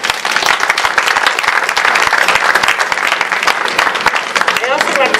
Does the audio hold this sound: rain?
no